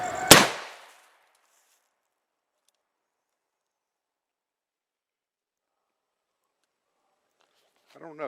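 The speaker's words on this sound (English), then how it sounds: "we're just going to shoot the board" One sharp, close pistol crack from a Philadelphia Derringer fired at a board, ringing out briefly before long silence; a voice starts to speak at the very end.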